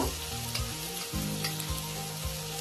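Potatoes fry with spices in a pan for a Bengali-style bhetki fish curry, a steady close sizzle with soft rhythmic stirring scrapes repeating beneath it.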